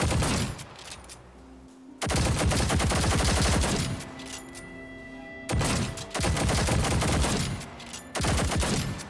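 Bursts of rapid 10mm pistol gunfire in Fallout 4, fitted with a Cyberpunk 2077 animation mod, crack out in dense loud volleys separated by short lulls of echoing tail.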